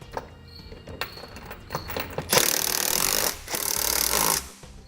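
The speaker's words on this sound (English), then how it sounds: "Then tighten down your running board bolts." A wrench tightens the bolts on Westin Sure-Grip running boards on a 2018 Chevrolet Silverado, with close, rapid ratcheting clicks in bursts and one long dense stretch of tool noise, with no talking.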